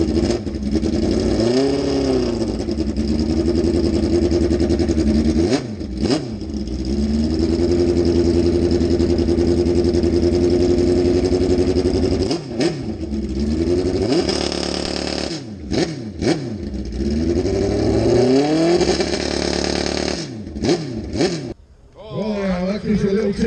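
Drag racing bikes at a Santa Pod Raceway display during Silverstone Festival 2025 fire up and rev hard, loud and close, with repeated sharp throttle blips and drops between sustained high-pitched engine roars.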